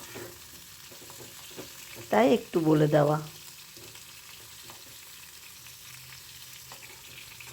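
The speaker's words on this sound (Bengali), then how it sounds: "এভাবে সবটা ফুলকপি ভেজে নেব" Cauliflower florets frying in oil in a home kitchen give a faint, steady sizzle throughout, with a brief burst of speech partway through.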